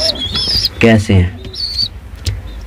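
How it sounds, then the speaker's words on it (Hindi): Pigeons of the balloon (pouter) breed in a fancy-pigeon collection give high chirping calls in short bursts, with a voice speaking briefly over them. "ये देखें कबूतर, इसका नाम गुब्बारा कबूतर।"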